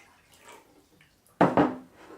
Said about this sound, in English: We're going to pour the water